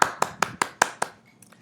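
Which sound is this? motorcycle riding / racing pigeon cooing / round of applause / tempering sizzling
round of applause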